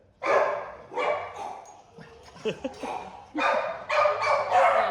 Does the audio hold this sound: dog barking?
yes